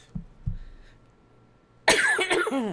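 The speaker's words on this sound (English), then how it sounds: "I felt that cough coming on." A couple of short, muffled coughs close by, followed by a louder, rougher throaty burst.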